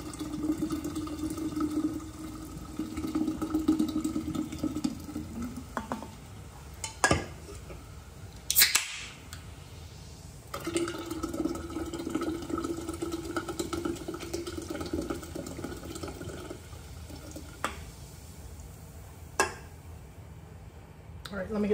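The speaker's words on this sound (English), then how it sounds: "I don't have 2 liters, so I'm just adding these cans of Sprite." Cans of Sprite poured into a summer drink mixed with juice, lime juice and simple syrup, a steady fizzing pour broken by short pauses and clinks of cans and glassware, repeated in two long runs.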